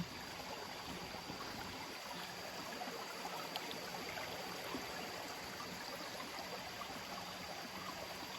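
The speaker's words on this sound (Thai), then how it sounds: "ฟังเสียงน้ำไหลอากาศเย็น" A forest stream flows in a continuous, faint wash of running water, steady and unbroken throughout, with no voices present.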